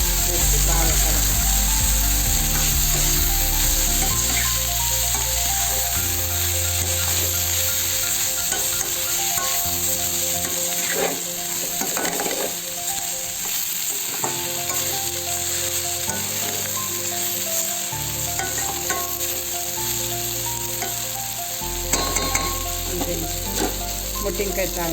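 Gram powder being stirred into cluster beans frying in a pan, a continuous crackling sizzle with scraping stir strokes and a steady background hum throughout.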